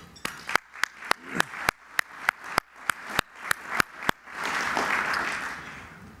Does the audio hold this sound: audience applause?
yes